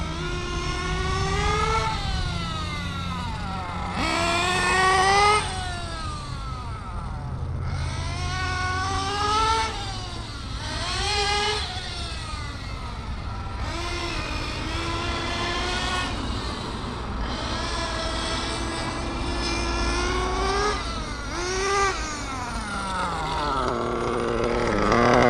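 Reedy 121-VR nitro engine in an RC8T RC car at about half throttle: a high buzzing whine that repeatedly rises and falls in pitch as the car passes near and far over about 25 seconds.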